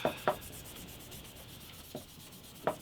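Fine 1000-grit sandpaper rubs on an antique parlour guitar bridge, making faint, quiet scratchy strokes with a few short, distinct passes over a soft background hiss.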